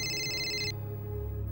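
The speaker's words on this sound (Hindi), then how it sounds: "अब किसका फोन आ गया?" A telephone ringtone chirps in a steady electronic pattern for under a second, then cuts off, leaving a low background hum.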